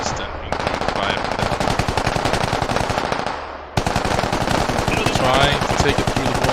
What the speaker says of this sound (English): so disturbing to have that constant fire